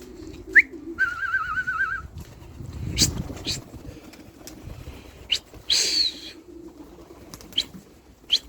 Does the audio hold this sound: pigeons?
yes